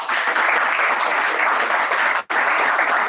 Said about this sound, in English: can I get a round of applause if you understood there's value in what I just said?